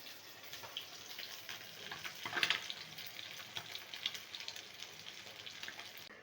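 Parshe fish frying in oil, a soft steady sizzle with faint crackles and one brief louder spatter, quiet and close with no talking.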